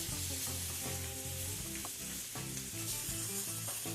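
Flour-coated lamb shanks browning in a hot frying pan give a steady, close sizzle that runs the whole time, with background music playing over it.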